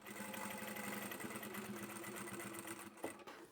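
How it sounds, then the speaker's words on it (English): A sewing machine stitches across the bottom of a vinyl upholstery bag made from sample swatch fabric, running steadily and close for a few seconds before a brief pause and a short final burst. "Turn your work and sew up part of the bottom."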